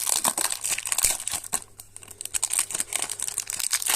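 Close, loud crinkling and tearing of a Magic: The Gathering card pack wrapper being peeled open, with rapid irregular crackles and sharper snaps of the foil-like plastic throughout.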